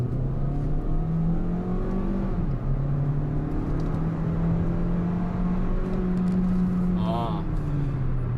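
Hyundai Kona Iron Man Edition engine pulling hard in sport mode up a hill, a steady loud drone with a slowly rising pitch that holds throughout, heard from inside the cabin.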